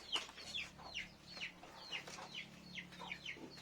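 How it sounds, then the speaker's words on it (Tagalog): Chickens on a rural farm in the province, with short clucks and calls repeating irregularly throughout, fairly close over a low steady background hum. "Chasing the chicken."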